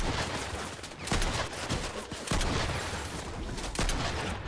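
Dense video-game gunfire crackles in rapid overlapping bursts, loud and continuous with no pauses.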